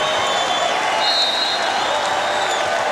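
A volleyball crowd at an NCAA tournament match between Hawai'i and Northern Colorado in 2011 cheers and applauds at match point, a dense, steady roar that stays loud for the whole stretch.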